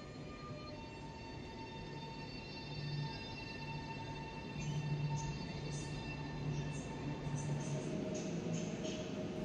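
An Express Intercity Premium train, a Polish-built Pesa Dart on the Warsaw to Wrocław route, pulls away from a platform in Poland with a steady low rumble and hum that swells slightly as it moves, with faint squeals up high.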